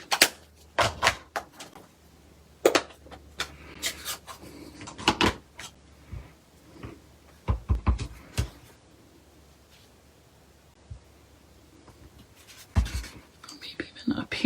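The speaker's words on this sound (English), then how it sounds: "You could even stamp on the edges a little bit." A rubber stamp presses onto the edges of card paper, giving a series of sharp, irregular taps and thumps separated by quiet pauses, with soft handling noises between them.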